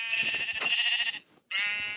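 A Minecraft sheep bleats loudly and close, a wavering nasal cry, pauses briefly, then bleats again.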